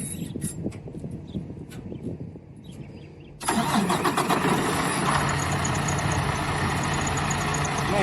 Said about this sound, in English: look at that truck crank.